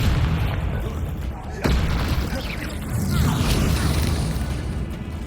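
In Hogwarts Legacy, a Confringo spell goes off as a sharp booming blast during a fight, followed by rumbling magical whooshes and a second swell of noise.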